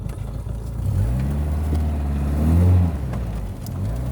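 An off-road vehicle engine revs and surges as it drives into a puddle, the low motor note swelling to a peak near the end, then easing off, with no voices heard.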